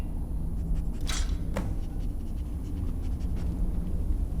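A dog in the video game Skyrim pants softly and steadily over a low hum of game ambience, with a couple of brief sharp clicks partway through.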